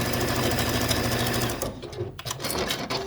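A sewing machine stitches small pieced quilt block seams, a steady close mechanical whir running for about a second and a half before breaking into shorter stop-start bursts.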